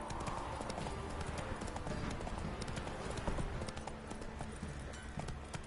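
Roach the horse galloping in The Witcher 3, a rapid, steady run of hoofbeats close by over a low ambient bed, with a faint whinny hinting in the mix.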